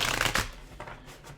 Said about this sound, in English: I'm just shuffling this deck.